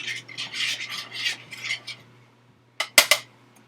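A spoon stirs vegan banana pudding mixture in a pot with a run of quick scraping strokes, close and clear, then a pause and a few sharp clinks of metal on the pot.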